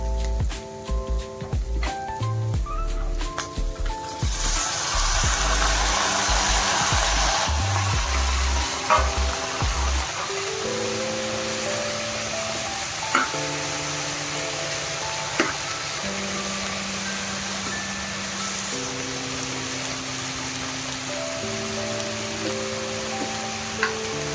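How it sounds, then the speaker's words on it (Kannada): Capsicum frying in a pan, with a loud, steady sizzle that swells as the pieces go in, plus occasional utensil clicks and stirring. "ಈಗ ಕ್ಯಾಪ್ಸಿಕಮ್ ಹಾಕ್ತಾ ಇದ್ದೀನಿ."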